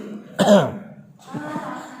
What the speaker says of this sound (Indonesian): Jadi cara batuk yang benar sekarang begini.